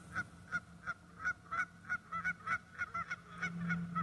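Geese honking near the water, a string of repeated nasal calls in quick irregular rhythm, fairly close and clear over a low background rumble.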